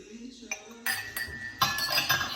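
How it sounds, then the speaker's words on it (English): Four drinking glasses from a Poundland haul clink together in a few bright, close knocks, with a soft voice briefly underneath. "She says that she's clinking them about, probably going to break in a minute."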